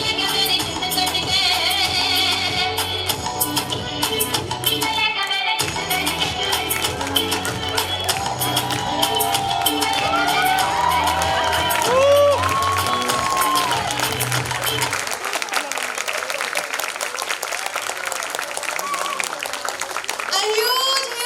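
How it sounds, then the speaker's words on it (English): An audience at a school annual function applauds for the children as music plays, the clapping mixed under the song before the music cuts out and the clapping carries on over a lighter background. "A huge, huge round of applause for our kids."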